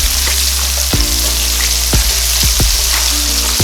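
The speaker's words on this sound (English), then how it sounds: "we're going to just let that fry for a few minutes" Shrimp fry in hot oil with a steady, dense sizzle, broken by a few sharp scrapes or clacks as the pieces are tossed around the pan.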